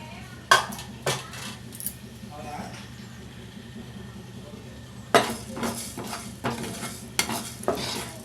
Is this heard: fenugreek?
yes